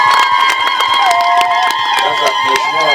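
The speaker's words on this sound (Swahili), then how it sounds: "Naomba tumpigie makofi mengi" A crowd at a Tanzanian road-infrastructure event cheers and claps for the Minister, with shouts and whoops over dense, sustained applause throughout.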